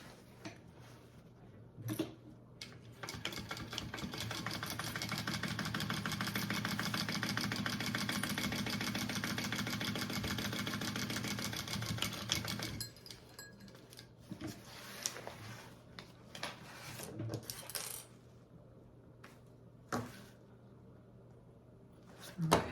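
A sewing machine runs steadily for about ten seconds as it stitches a handmade tote bag shut, then stops, followed by scattered handling clicks and rustles of fabric.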